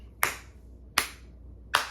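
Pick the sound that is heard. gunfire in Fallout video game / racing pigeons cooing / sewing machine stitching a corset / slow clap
slow clap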